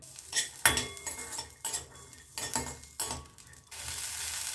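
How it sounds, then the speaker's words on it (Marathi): Fresh pigeon peas roast in a small splash of oil in a pan, with repeated metal scrapes and clinks of a utensil stirring over a faint sizzle, coming in uneven bursts. "हे अर्धे दाणे आपण भाजून घेऊया"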